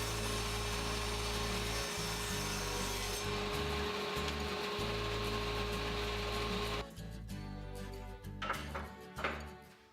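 Table saw cutting into walnut, a loud continuous hum and grinding buzz as the wood is fed into the blade, easing off toward the end with a few rougher scraping bursts.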